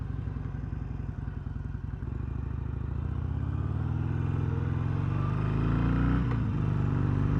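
A stock Harley-Davidson Sportster Iron 883 with its factory exhaust rides down back streets, the V-twin's loping throb pulsing steadily up close and swelling louder as it accelerates.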